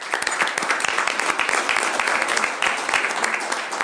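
A round of applause breaks out at a city council meeting during a farewell tribute, with close, loud clapping whose individual claps are distinct and steady all the way through.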